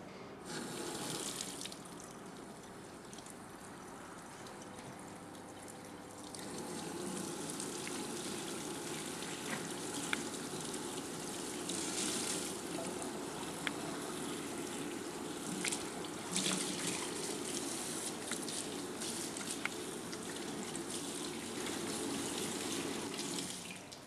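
A charred capsicum is rinsed under a running kitchen tap, and the water streams steadily and close for the whole stretch, with splashes and small spatters as it is handled and no voices.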